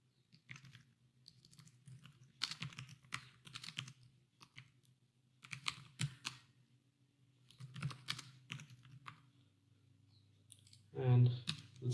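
Computer keyboard typing while writing code in Visual Studio: bursts of quick key clicks in uneven clusters, close and quiet, with a low steady hum underneath and a brief louder thump at the end.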